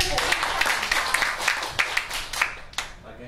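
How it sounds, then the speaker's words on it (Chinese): Scattered hand claps from a seated audience welcoming a participant onto the stage at a lecture seminar: a modest, uneven round of individual claps rather than a full ovation. "大家掌声鼓励。"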